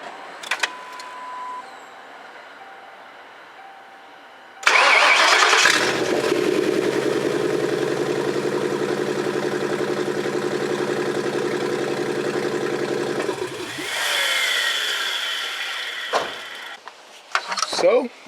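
A Ford Crown Victoria patrol car is cranked and fires up, then idles steadily for several seconds before shutting off. The engine is loud and near, with quiet moments before and after.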